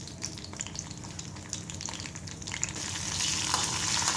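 Garlic, coriander seeds, cumin and mustard seeds sizzle in a hot pan, a close crackling hiss that swells louder and brighter toward the end, with a few light stirring clicks.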